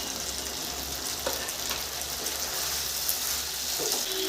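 Fried paneer pieces go into a pan of mixed vegetables and sizzle in a steady, close hiss, with a few soft clinks and stirring scrapes along the way.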